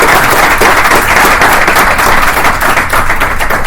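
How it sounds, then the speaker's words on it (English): Sustained applause from an audience at a law of armed conflict and drug policy debate, a dense, steady wash of clapping that stays loud and even from start to finish. "I'd really like you all to join me in giving them a warm round of applause and thanking them."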